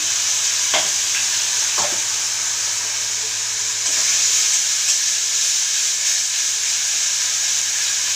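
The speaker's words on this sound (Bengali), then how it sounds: "একটু নুন দিয়ে দিচ্ছি, নুন দিয়ে ভাজছি" Onion and eggplant frying in a pan with salt, ginger and chili, giving a loud, steady, close hiss of sizzling oil with a few sharp spoon scrapes early on.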